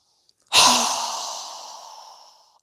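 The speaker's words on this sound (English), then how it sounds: "So go ahead and inhale. Strong exhale." One strong breath pushed out forcefully during a yoga breathing exercise, a close, loud whoosh that starts sharply and fades over about two seconds, heard alone without talk.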